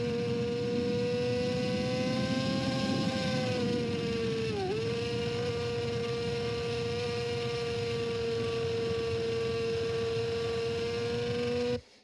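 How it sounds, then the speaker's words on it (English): A racing motorcycle screams around the TT Assen circuit, its engine holding a loud, high revving tone that dips briefly mid-lap before climbing again, then cuts off abruptly at the end. "the bike is revving too much"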